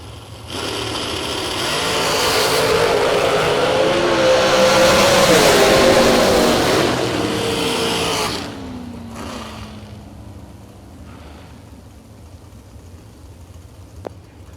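Drag race cars run in the first round of a $50,000 drag racing shootout. A loud engine roar builds and peaks, then cuts off after about eight seconds, leaving a fading tail, a faint distant hum and one brief click.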